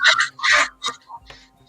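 A voice imitates a choking duck, giving a few rough, honking, strangled squawks in quick succession, close to the microphone and fairly loud, trailing off into quieter sputters.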